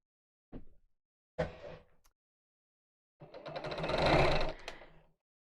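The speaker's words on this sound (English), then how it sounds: "we're just going to sew these right sides together using a 1/4 inch seam allowance" A sewing machine stitches two fabric pieces right sides together along a quarter-inch seam, running in two short bursts and then one longer steady run, close and clear with no talking.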